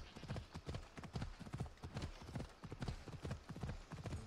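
Horse hooves clip-clop in a steady trotting rhythm as a rider travels through a forest in Assassin's Creed Odyssey, close and continuous with a faint voice underneath.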